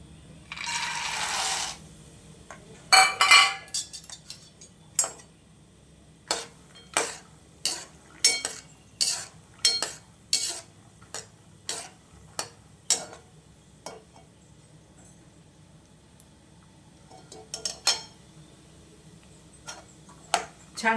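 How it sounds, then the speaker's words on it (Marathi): Peanuts frying in hot oil for a peanut and mixed-dal chutney, stirred with a metal spoon in a pan, giving a burst of sizzling followed by a steady run of sharp scraping clicks at regular intervals. "पहिलं शेंगदाणे तळून घेते."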